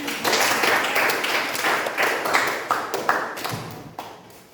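Students in a classroom network-cabling lesson applaud together, a busy, fairly loud patter of clapping that holds steady, then thins and fades over a few seconds.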